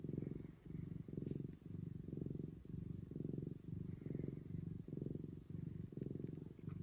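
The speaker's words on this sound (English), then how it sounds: "Do you guys hear him purring?" A contented male cat purrs close up. The purr is soft and low, with a steady in-and-out rhythm of about eleven breaths, and there is no talking over it.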